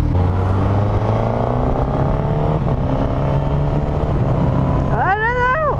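A 2021 Suzuki GSX-S1000 motorcycle with a quickshifter is ridden, its engine droning steadily at close range before the revs climb sharply in quick rising sweeps near the end.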